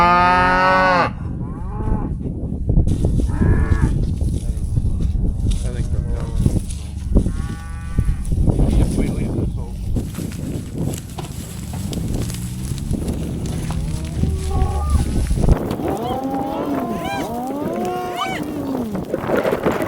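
A herd of about thirty cattle in a field, loud bellowing moos repeating one after another at close range, with occasional talk mixed in.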